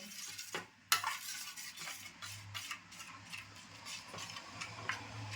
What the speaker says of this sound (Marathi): व्यवस्थित ढवळून घ्यायचं